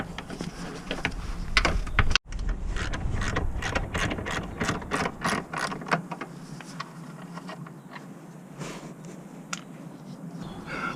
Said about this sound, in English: Use your extension and your 15mm socket.